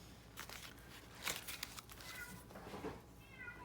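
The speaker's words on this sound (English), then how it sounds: "Kitties are waiting for their snack." Domestic cats meow for a snack indoors, with several short mid-pitched calls and faint rustling around them, fairly quiet and without talk.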